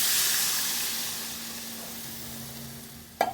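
Frying mango chutney sizzles and hisses steadily in a pan, fading gradually before a sudden sharp burst as water is poured in near the end.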